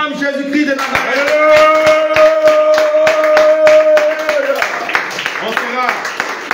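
A house-church congregation applauding Jesus Christ during a prayer time, a dense burst of rapid close clapping with a voice singing or calling over it, then tapering off.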